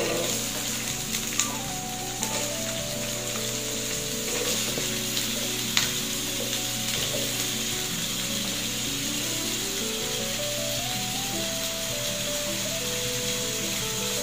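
Cut potatoes sizzling and frying in a pan with cauliflower as a home breakfast cooks, with a steady loud hiss throughout and scattered clinks and scrapes from stirring.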